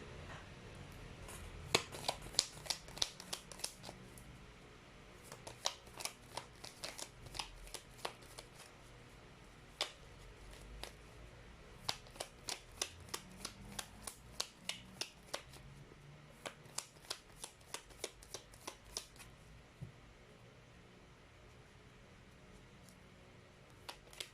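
Tarot cards being shuffled by hand, quiet and close, in repeated bursts of rapid riffling snaps separated by short pauses, with no talking.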